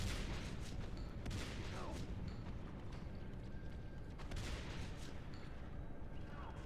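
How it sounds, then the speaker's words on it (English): Three rapid shotgun blasts in a competitive team shooter match, sharp and punchy bursts over a busy background of game effects and rumbling noise. "Heracles gets that shotgun back up for free. Empties 3 shots into that drifter."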